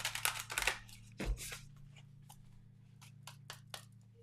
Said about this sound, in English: All right, we'll give it a little shuffle.